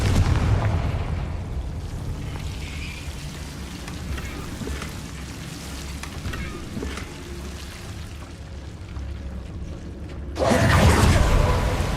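A Confringo fire spell in Hogwarts Legacy erupts as a rumbling, crackling blast, with steady low rumble underneath and a loud, sharp burst near the end.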